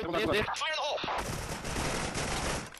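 Rapid bursts of video game gunfire crackle loudly and continuously, with players talking in the background.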